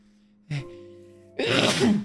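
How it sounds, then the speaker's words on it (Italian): A single sharp sneeze bursts out close up, loud and brief, after a quiet stretch with a short intake of breath before it. "Tra l'altro ora devo anche starnutire"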